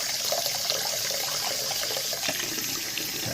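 Hot water running from a tap into a sink, a steady loud rushing splash that continues evenly without talk.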